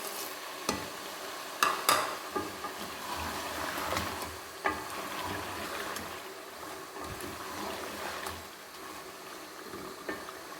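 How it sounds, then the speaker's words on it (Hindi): Whole cumin, black pepper, cloves, bay leaves, green and black cardamom and cinnamon sizzle in hot oil for chicken korma, a steady crackle with a few sharp spoon knocks and stirring clatters near the start, no talking. "1 टीस्पून भर के डाला है ज़ीरा साबुत, थोड़ी सी काली मिर्च है, 5 से 6 अदद लौंग हैं"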